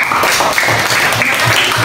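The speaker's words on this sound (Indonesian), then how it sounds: "tepuk tangan untuk kelompok 2" A classroom group applauds a fellow group, giving a short burst of loud, steady clapping that fills the whole moment without any talking.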